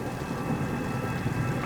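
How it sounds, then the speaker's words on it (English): Steady heavy rain hisses continuously with a low rumbling thunder undertone, a dense, even downpour with no voices. "It was raining heavily, accompanied by thunder and lightning."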